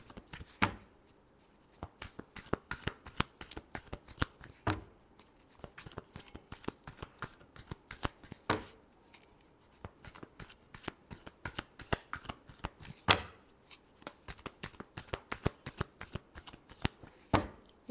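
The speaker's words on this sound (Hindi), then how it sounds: "Last shuffle." Tarot cards are shuffled by hand in quick repeated riffling bursts, a close, crisp flutter of card snaps recurring throughout with short pauses between rounds.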